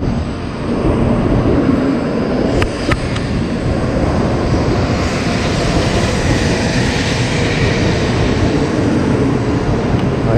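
A Shinkansen bullet train arriving at Shin-Kobe Station rumbles past at close range, steady and loud, with a broad roaring wash of noise and a couple of brief sharp clicks partway through.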